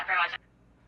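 A Rust video game megaphone voice set to high pitch: a short, bright, squeaky filtered voice burst, loud and clipped, lasting well under half a second before cutting off.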